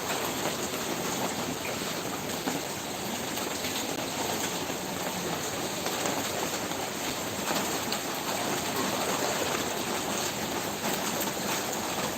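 Heavy rain pours steadily in Mumbai, a dense, even hiss of water with no pauses and faint bird calls at times, and no talk.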